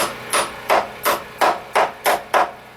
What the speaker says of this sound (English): when I start to notice the weakness in the framing nailer, like that one